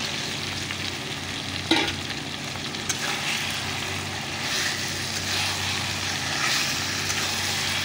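Chicken fries in a pan with a steady, broad sizzle close by, with a couple of sharp clinks from stirring early on and the frying swelling slightly toward the end.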